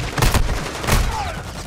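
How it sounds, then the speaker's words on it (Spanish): Gunfire in Call of Duty: Modern Warfare II, a quick cluster of sharp, loud shots followed by another burst a moment later, with a faint whizzing tail. "Papi, me tumbó dos tiros."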